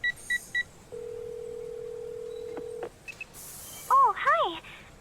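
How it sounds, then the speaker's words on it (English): Phone dialing in a visual novel: short DTMF keypad beeps, then a steady dial tone for about two seconds, followed by short electronic chirps and a warbling ringtone-like trill at the end, all clear with no talk. "Without thinking, I pull out my phone and dial the first number that comes to mind."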